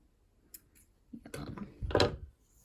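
Scissors snipping crochet yarn after a pumpkin-coaster leaf, a few soft close clicks and a short crunchy cut against a quiet background.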